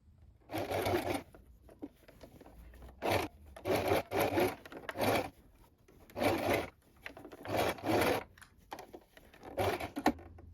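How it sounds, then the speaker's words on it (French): A sewing machine stitches fabric for a donut pin cushion in bursts, several short runs of rapid whirring separated by quiet pauses, close and fairly clear. "Donc vous allez coudre à 1 cm du bord en laissant une ouverture ici."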